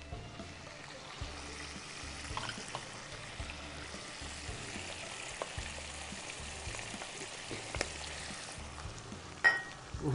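Chopped green onion and crushed garlic sizzle steadily in a pan for potato boats, a soft continuous frying crackle at low level with a few brief stirring knocks and no talk.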